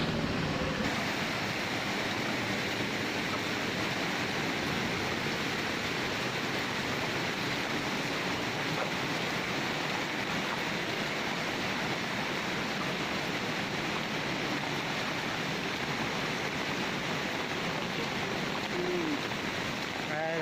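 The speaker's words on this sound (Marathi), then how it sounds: "नदीच्या पात्रावरील हलकी नजर फिरवूया जेणेकरून तुम्हाला प्रॉपर प्रेशर आणि पाण्याची पातळी कळेल" A flooded river runs at a record-breaking level, giving a continuous dense roar of rushing water that stays steady and loud for the whole stretch, with no breaks.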